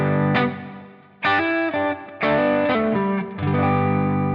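An electric guitar with distortion plays a short riff with hammer-ons, with loud, sustained chords struck about four times and brief dips between them, and no talking.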